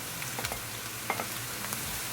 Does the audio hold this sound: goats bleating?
no